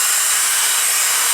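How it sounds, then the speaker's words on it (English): A hair dryer blows steadily, a loud, even rush of air with a bright hiss, close by and unbroken. "I'm just going to hit it with the air dryer a little bit just to speed up the process."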